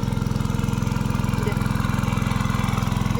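A small engine-driven pump draining water from a fish pond chugs loudly and steadily, its rapid regular pulsing close and continuous throughout.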